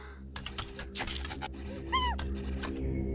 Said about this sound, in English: Richie, save the cat